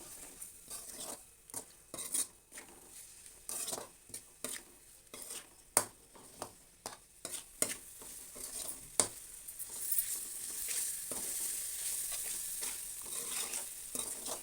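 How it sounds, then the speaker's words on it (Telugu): Cumin, coriander and garam masala powders stirred into a pan of egg curry: a spoon scrapes and knocks in irregular bursts close by, over a faint sizzle that grows steadier toward the end, with no talking. "ఇవి వేసుకొని మనము ఈ విధంగా చక్కగా నీట్గా కలుపుకుందాం."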